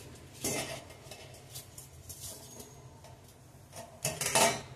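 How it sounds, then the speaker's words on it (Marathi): Thick strained yogurt (chakka) dropped into a metal pot for shrikhand, giving a few soft metallic clinks and scrapes of utensil on vessel in a quiet kitchen, with two louder knocks. "आता ह्या दह्याचा चक्का मी गंजात टाकून देते।"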